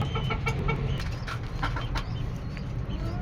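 Poultry fed a liquid calcium and vitamin D3 supplement cluck in short repeated bursts, several birds close by over a steady background hum, with no talking.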